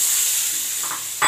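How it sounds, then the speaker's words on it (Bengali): Chicken meat being stir-fried in oily spice paste, a brief hiss of frying with a quick scrape of the spoon near the end, close and short. "এখন মাংসটাকে ভালোভাবে কষিয়ে নিব।"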